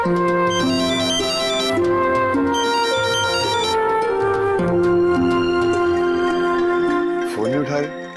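A mobile phone ringtone plays a repeating melodic tune over and over during a call nobody picks up, loud and close, with no voices over it, then cutting off near the end.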